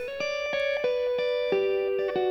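Effected electric guitar playing a steady octave line, sustained notes changing in pitch with a processed, slightly distorted tone, no voices.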